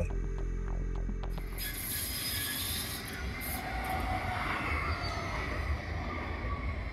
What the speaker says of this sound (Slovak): Ideme si vyskúšať jazdu električkou